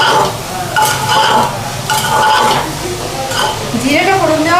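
Cumin, chili, potato, onion and turmeric fry over a medium flame in a pan for dal aloo, giving a close sizzle with spoon stirs and light metal clinks. A voice comes through faintly in places.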